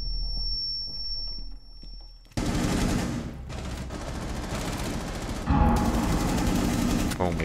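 Rapid video game gunfire from a weapon with heavy, jumpy recoil, loud and sustained in dense bursts with a brief pause, beginning abruptly after a quiet stretch.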